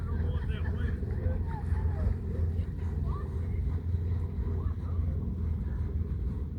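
A sailboat's motor drones low and steady on open water, mixed with wind buffeting the microphone, while people talk over it.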